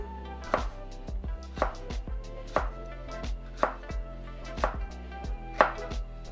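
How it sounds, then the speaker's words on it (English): A knife chops half a jalapeno into tiny pieces on a board, giving steady, evenly spaced sharp thuds. About nine close, crisp cuts come alone with no voices. "We're only gonna use half a jalapeno for this. All right. Slice it down."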